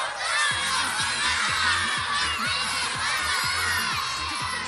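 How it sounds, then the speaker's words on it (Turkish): An audience at a school dance competition gala shouts together in a loud, dense chorus of many voices, mostly children, voting for a dancer with rhythmic repeated bursts. "Bir kez daha aynı anda söyleyin. Batuhan'ı seçenler Batuhan, Efe'yi seçenler Efe diye bağırsın."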